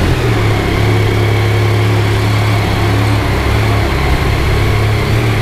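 A loud jeep engine idling steadily nearby, a constant low droning hum with no change in pace and no talking.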